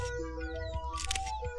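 A camera shutter clicks once in a quick, sharp burst during a posed photo in a Marathi film scene, heard over steady background music.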